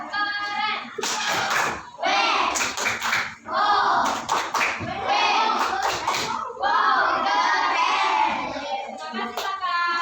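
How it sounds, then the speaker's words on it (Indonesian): Children in a primary school classroom clap in short, sharp bursts mixed with lively voices, with several distinct hand-claps standing out over continuous chatter. "Tepuk tangan."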